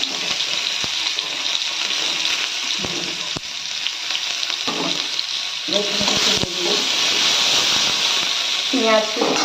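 Panch phoron and chopped garlic hit hot oil in a home kitchen, giving a bright, crackling sizzle that swells louder partway through, with scattered clinks and faint voices in the background.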